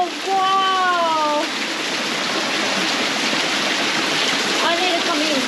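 Warm spring water pours down like a shower in a steady, loud hiss and splash, while a voice speaks with rising and falling tones near the start and again near the end.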